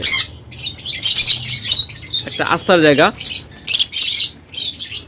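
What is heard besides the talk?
birds for sale calling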